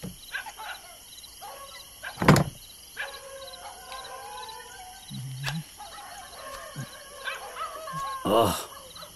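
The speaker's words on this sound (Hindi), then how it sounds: "ये कुत्ते क्यों इतना भौंक रहे हैं?" Dogs barking at night outdoors, a few sharp loud barks and yelps scattered among quieter background calls, with one strong bark early and a longer burst near the end.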